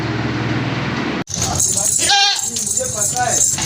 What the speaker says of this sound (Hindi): ये माशाल्लाह बकरी है